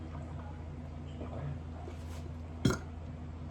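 A single short burp after drinking Hawaiian Punch juice, abrupt and close, rising briefly out of quiet room noise near the end.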